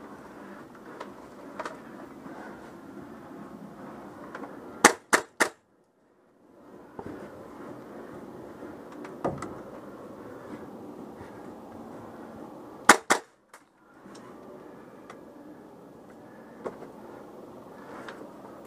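Paintball markers fire during an outdoor paintball game, sharp pops that come in quick bursts of two or three shots between stretches of rushing wind and movement noise.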